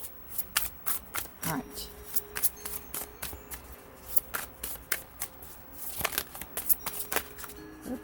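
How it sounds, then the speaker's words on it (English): Tarot cards shuffled by hand for a Gemini general reading, rapid close riffling and slapping in irregular bursts, with a voice speaking briefly. "I don't know if the cards want to be shuffled today."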